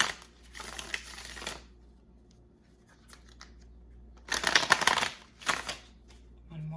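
Tarot cards are shuffled in two bursts of dense, crisp riffling close by, separated by a quieter stretch with light handling noises.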